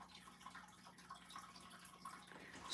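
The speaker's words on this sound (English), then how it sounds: "The water sound in the background is our fish tank." Faint background trickle and dripping of water from a home fish tank, a soft, continuous splash in a quiet room.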